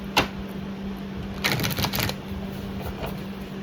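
Tarot cards are shuffled in a couple of quick riffling bursts, close and soft, over a faint steady hum.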